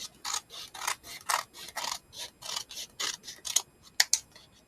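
Canvas being cut for a flip journal, heard as a series of about fifteen close, crisp snips and rasps in an uneven rhythm, with short gaps between them and no talking.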